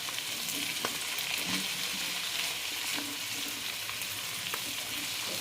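Mushrooms, potatoes and carrots fry in a pan with a steady, close sizzle and crackle throughout, broken by faint clinks of stirring.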